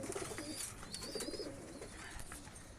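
A young pigeon calls nearby with soft, repeated cooing and chirping notes over steady background noise, fairly faint overall.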